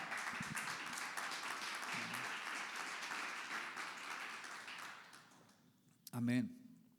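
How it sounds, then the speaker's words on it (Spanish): A church congregation at a Sunday school service applauds in a sustained, fairly distant wash of clapping that fades after about five seconds, with a voice speaking briefly near the end. "Dele ese aplauso al Señor"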